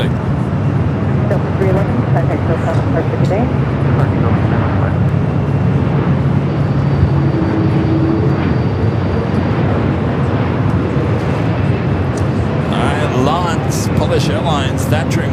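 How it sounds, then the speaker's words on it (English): A LOT Polish Airlines Boeing 787 Dreamliner begins its takeoff roll on runway 24 left at LAX, heard as a constant broad roar that stays steady throughout while people talk over it. "Polish Airlines, that Dreamliner now starting its roll down to 24 left."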